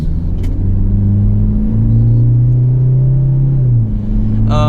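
Engine of a 2021 Toyota Fortuner 4x4 automatic revving steadily with a loud, close drone, its pitch climbing then dropping as the transmission shifts up, with the rev rising again near the end.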